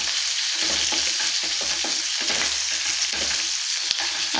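Onion, garlic and curry leaves fry in hot oil with a steady, close sizzle, while a spoon stirs them through the pan in a gentle rhythm. One sharp clink comes near the end.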